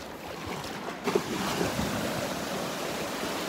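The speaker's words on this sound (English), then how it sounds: "Some little waves now and then" Small ocean waves break softly on a beach at Delnor-Wiggins, giving a steady wash of surf with a light breeze and a few brief splashes close by.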